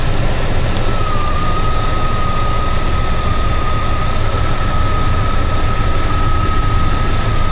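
Car engine running steadily after a jump start on a failed lead-acid battery, a loud, continuous low drone with a thin whine held above it, close by and with no talking.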